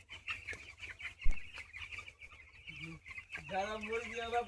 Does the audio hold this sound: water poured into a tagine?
no